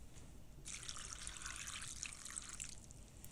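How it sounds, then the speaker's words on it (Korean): Warm water pours steadily into a container of dried shredded squid, a soft continuous splashing stream lasting a few seconds, close and fairly quiet, with no talk. "따뜻한 물을 부어 진미채를 불려줄 겁니다."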